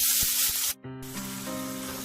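Onions frying in oil in a kadhai right after a garam masala tempering, for a dhaba-style lobia dal: a loud, steady, close sizzle that cuts out for a moment, then carries on.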